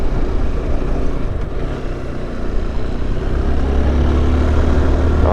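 A Honda XRE 190 motorcycle climbs a hill in fourth gear with a steady, moderately loud engine drone under wind rush; the low hum grows slightly firmer toward the end.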